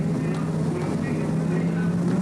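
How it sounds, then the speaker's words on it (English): Touring car engines on the front row of the starting grid at Sandown in round 7 of the 1988 Australian Touring Car Championship, revving as a steady, loud mechanical drone with a commentator's voice over it. "Drivers bringing the revs up in the cars for the front row."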